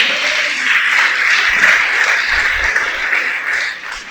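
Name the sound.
applause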